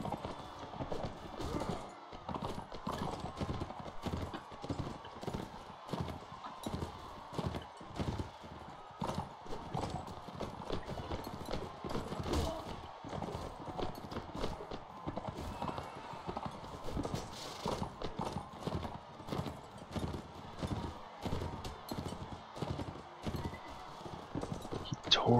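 Horses gallop through a battle in the Mount & Blade Warband video game, a dense and continuous run of hoofbeats with occasional whinnies. It keeps going for the whole stretch, and a voice talks in places over the combat noise.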